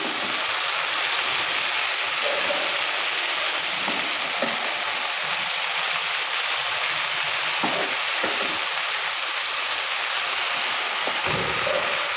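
Continuous sizzling of frying in a pan as turmeric and Kashmiri chilli powder are stirred in, with a steady hiss and occasional soft scraping knocks of the spatula.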